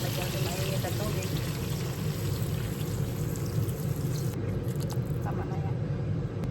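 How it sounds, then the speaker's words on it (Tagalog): Hot water poured into a cooking pan of frying fish with pepper, a close, continuous splashing pour over steady sizzling, with the stream cutting off near the end. "Lagyan ko mainit at tubig."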